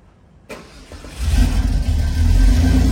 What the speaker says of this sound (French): c'est pas ce moteur qui vient de démarrer, puis pas le moment. Non, non, c'est une magnifique Porsche Carrera 2